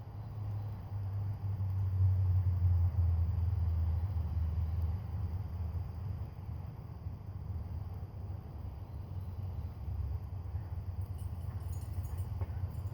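A 1984 Craftsman 22-inch lawn mower engine runs with a steady low rumbling drone, slightly louder early on and then settling into an even hum.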